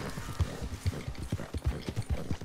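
Horse hooves clip-clop in the video game Red Dead Redemption II, a steady near rhythm of sharp thuds at a trot, clear and mostly alone.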